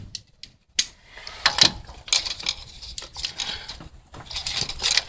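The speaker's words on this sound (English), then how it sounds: "take your 10 millimeter deep well and your ratchet" A ratchet with a 10 mm deep-well socket works the bolts of a throttle body, giving close, irregular bursts of clicking and rattling with brief pauses between them.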